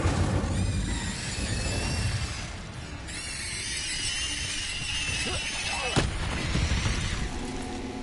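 Incendio and Confringo spells cast during combat in Hogwarts Legacy, with fiery whooshes, bursts and squealing magical effects layered over a continuous noisy battle mix, a sharp blast around the middle, and sustained tonal effects.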